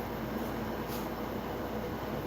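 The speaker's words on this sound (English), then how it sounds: "if you hear any noise in the background, that's the air conditioner. I have it on low as it goes" Air conditioner running on low indoors, a faint, steady broadband hum and hiss continuing unchanged throughout, with no voices.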